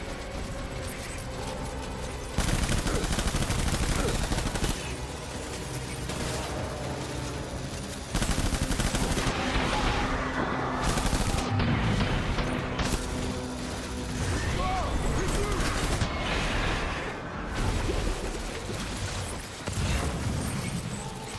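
Gunfire in the video game Death Stranding: sustained bursts of shots and blasts, dense and loud, running through most of the scene with short gaps between volleys.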